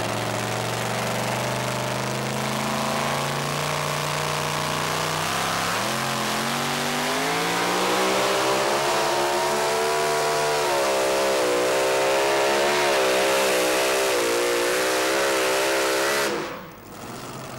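The two-wheel drive pulling truck Grim Reaper roars loudly at a truck and tractor pull, its engine revving harder and climbing in pitch for about sixteen seconds before cutting off abruptly.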